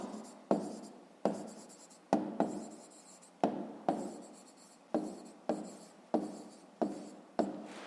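Pen strokes scratch across paper while numbers are written out for a fifth-grade maths exercise, about a dozen short sharp scribbling bursts in an uneven rhythm, close and alone.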